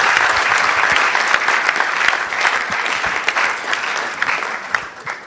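Loud, sustained crowd applause for sponsors at the NSMQ 2025 national championship launch, dense clapping that stays strong throughout and eases slightly near the end.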